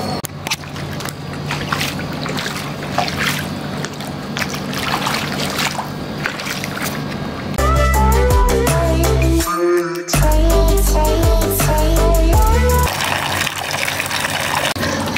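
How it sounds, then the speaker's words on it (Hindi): Falling water heard outdoors during a cycling outing: a steady rushing splash at first, then a louder section with deep low rumble and musical tones layered over the flow before it returns to plain rushing water. "कितना सेटिस्फाइंग लगता है ना पानी की गिरती हुई आवाज़ को सुन के"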